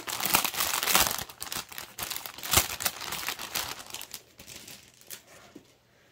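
Plastic packaging of a cross-stitch kit crinkles and tears as it is opened by hand, a close, busy run of sharp rustles and crackles that eases off toward the end.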